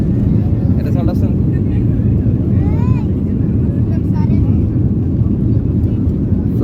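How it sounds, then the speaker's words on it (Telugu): A passenger airplane roars steadily during takeoff, heard loud from inside the cabin as a dense, unbroken rumble. Voices speak over it now and then. "ఫ్లైట్ టేక్ ఆఫ్ అవుతుంది ప్రజెంట్గా"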